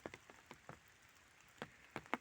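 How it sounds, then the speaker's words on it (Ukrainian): Rain falls in a forest during a heavy downpour, heard as faint, scattered drops tapping a surface at irregular intervals over a quiet background, with no voices. "бачимо, який сьогодні потужний дощик"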